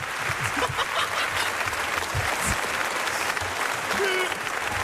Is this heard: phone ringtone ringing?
no